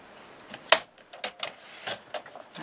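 Paper is cut on a cutting board, a quick run of close crisp slicing and tapping sounds, one sharp stroke standing out, over a quiet background.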